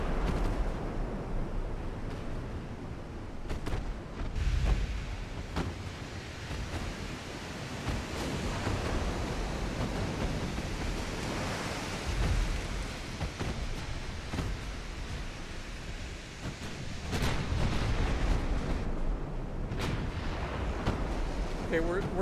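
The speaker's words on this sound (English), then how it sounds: "Our secondaries are engaging. Remember, we got 5-inch casemates and a lot of them." Naval secondary guns firing from 5-inch casemates in Ultimate Admiral Dreadnoughts, scattered heavy booms and thuds rolling over a constant roaring sea-like wash, with intermittent louder blasts standing out.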